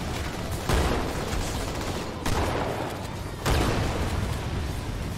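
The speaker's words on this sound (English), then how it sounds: "Are these humans shooting at me?" Humans open fire in Halo 2, a loud, dense, continuous gunfire barrage that surges in three sharper bursts. No one speaks over it.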